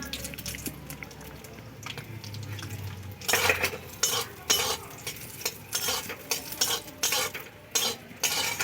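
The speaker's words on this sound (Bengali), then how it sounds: "পুরো লো ফ্লেমে একদমই কয়েকটা কাজু ভেজে নেব" Cashews frying in hot ghee over a low flame, a soft steady sizzle under repeated clinks and scrapes of a spoon stirring against the pan, close by with no talk.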